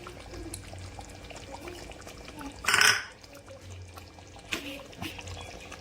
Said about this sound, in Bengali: দুধের মধ্যে আমি সেদ্ধ করেছিলাম চিকেনটাকে, সেই যে স্টকটা সেটা আমি এর সাথে মিশিয়ে দেবো।